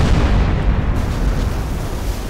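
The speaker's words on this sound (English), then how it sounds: "Some boiler explosions, probably." Deep, rumbling booms from boiler explosions aboard a sinking ship in a submarine video game, a continuous loud low roar sustained with no voices.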